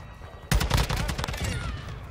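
Gunfire in a ranked shooter video game breaks out abruptly as a rapid, loud burst of automatic shots close by, rattling on for over a second before trailing off.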